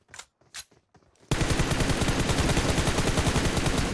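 Gunfire in the mobile battle royale game PUBG Mobile: after a second of sparse, soft knocks, loud rapid automatic fire starts and keeps up a steady, dense rattle to the end.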